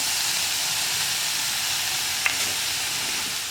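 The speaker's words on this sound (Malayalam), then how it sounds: "ഇനി നമുക്കിതിൻ്റെ മുകളിലേക്ക് നമ്മൾ വേവിച്ച് വെച്ചിരിക്കുന്ന പരിപ്പും കൂടി ഇട്ടിട്ട് ഇളക്കി മിക്സ് ചെയ്തെടുക്കാം" Cooked lentils being stirred into a frying pan produce a steady, close sizzling hiss throughout, with a faint clink of the spoon partway through.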